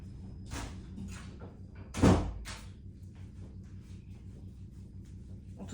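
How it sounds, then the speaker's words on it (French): A single firm thud of a door being shut, loud and close, with light rustling and footsteps before it and a low steady hum of a washing machine running underneath. "je vais fermer la porte parce qu'on entend la machine à laver"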